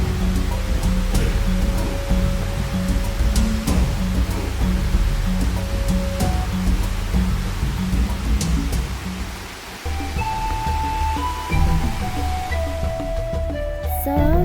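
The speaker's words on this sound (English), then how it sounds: "This breathtaking triple drop waterfall is one of many beauties that can be found in Paruima." A triple drop waterfall at Paruima village roars as a steady, loud broadband rush of falling water, continuous throughout with faint tones and a brief dip partway.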